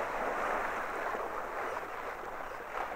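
Waves kick up around a boat at sea in a game, producing a continuous broadband wash of surf and wind-like rushing, moderately loud and steady with slight swells in intensity.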